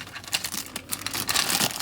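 Thin plastic crinkles and rustles up close as a bag holding an action figure's stand is handled and pulled open, a quick burst of crackling lasting about two seconds.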